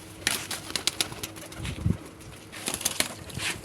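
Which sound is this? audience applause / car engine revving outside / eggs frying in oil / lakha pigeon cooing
lakha pigeon cooing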